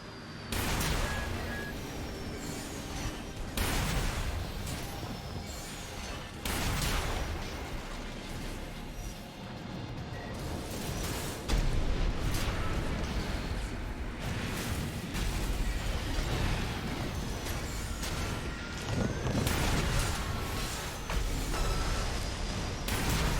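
Repeated heavy bazooka blasts and booming explosions from a mech's left-arm weapon in the Armored Core VI combat game, loud and sustained over dense battle noise with several distinct bursts spread through the stretch.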